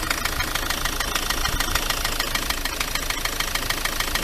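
A Ford Transit MK7 2.4 RWD diesel engine runs with a knocking fault, a rapid steady metallic ticking knock over an even idle drone, close and constant throughout.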